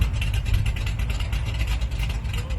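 A big-block Ford engine in a '72 Gran Torino roars loud and close, revving above 6,000 RPM during a burnout in a sustained, rough, high-speed howl.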